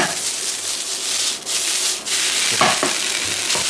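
Ketchup being stirred into Japanese chicken rice in a pan, continuous scraping and rubbing of a utensil through the rice over a soft sizzle, with a few brief clacks.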